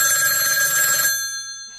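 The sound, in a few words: telephone ringing, funny ringtone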